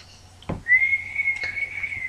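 Weird, wavering whistle attempted after eating crackers during a cracker whistle challenge, one breathy sustained tone following a short puff, close and alone.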